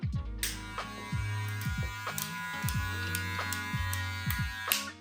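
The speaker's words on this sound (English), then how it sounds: "The biggest complaint I've heard from other barbers about this clipper is the sound." A Stylecraft Gamma Rebel hair clipper runs close by with a steady electric buzz and hum, its tone stepping and wavering slightly as it is handled.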